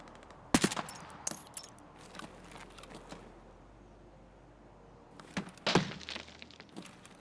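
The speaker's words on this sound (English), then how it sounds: "there's somebody shooting at me" Sharp cracks of gunfire aimed at the listener's position, with a cluster of shots early on, a quieter gap, then another burst a few seconds later, all fairly distant and faint.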